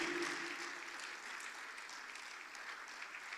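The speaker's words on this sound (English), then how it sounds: "Please, can we give him a round of applause?" Audience applause at an Edo State Government football event, a steady wash of many hands clapping, moderately loud and sustained, with a faint voice briefly audible at the start.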